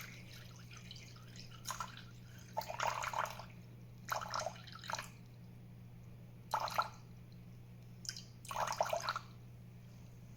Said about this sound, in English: We're going to go ahead and weigh out our water first.